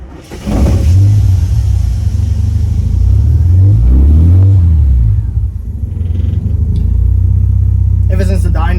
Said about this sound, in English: so just a quick normal little test drive